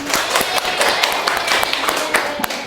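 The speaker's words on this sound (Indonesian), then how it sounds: "Berikan tepuk tangan." An audience claps after a group presentation at a classroom teaching practice session, a brisk, scattered burst of hand claps heard up close with some voices mixed in.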